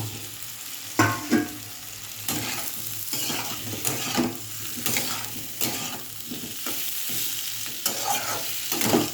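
Pointed gourd is tossed into a hot pan and stir-fried, a continuous sizzle broken by repeated scraping and clattering strokes of the spatula, heard up close without speech.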